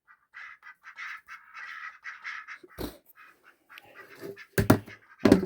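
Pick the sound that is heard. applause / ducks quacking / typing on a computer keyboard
ducks quacking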